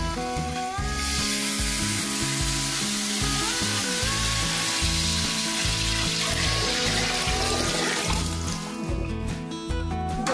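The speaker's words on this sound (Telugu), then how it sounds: "ఇందులో వాటర్ పోసేస్తాను" Water poured into a hot pan of tempering spices hisses and sizzles loudly and continuously, a steady bubbling roar over low rhythmic background music.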